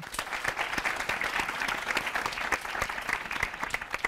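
A studio audience at a televised school quiz competition bursts into a dense, steady round of applause that holds at an even level throughout, with no voices over it.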